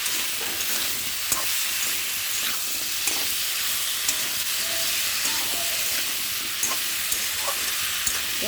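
Prawns, potato, taro and okra sauté in hot oil with turmeric for a curry, giving a steady close sizzle and hiss with occasional light clinks of stirring throughout.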